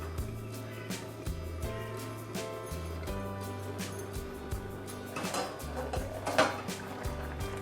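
A metal lid set back onto a wide pan of turmeric-cooked Bombil fish, with repeated clanks and scrapes of cookware against the pan over a steady low hum in a home kitchen.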